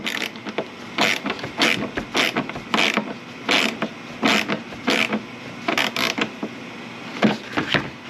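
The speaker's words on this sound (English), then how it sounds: "I did use a pair of vice grips to tighten that in and thread it in." Vice grips turn a threaded nipple fitting into a diesel tank for a heater install on a Vanagon, giving a series of rhythmic metallic creaks and grinding clicks, close and fairly loud, with no voices.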